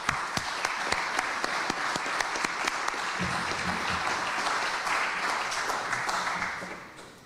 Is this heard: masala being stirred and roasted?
no